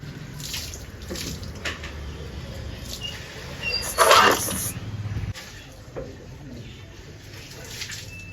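Water splashes and runs over a Freedom scooter being washed outdoors, a steady wet wash with a louder gush near the middle and no talking.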